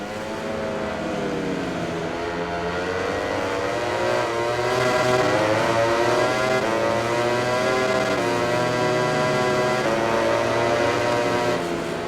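Simulated Ducati GP20 MotoGP bike racing at Le Mans in MotoGP 20, its engine screaming steadily and loudly throughout, pitch rising and shifting through gears, with other bikes' engines layered underneath.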